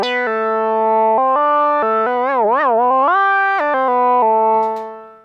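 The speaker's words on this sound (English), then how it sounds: "I have the Moog ready with a nice little patch." Moog Sub37 synthesizer patch routed through an HX Stomp XL effects unit, playing a sustained monophonic line with stepped pitch changes and a wavering vibrato bend, loud and close before fading at the end.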